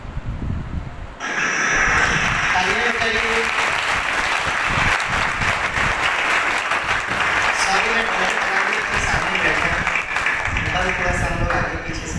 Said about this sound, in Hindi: आप जैसे ही देखेंगे आप जोर से उनके लिए तालियां बजाना